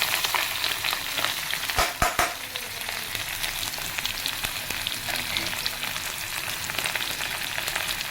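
Pork fries in a pot with ginger, garlic and chillies, giving a dense, even crackling sizzle throughout, with a couple of brief knocks partway through and no voices.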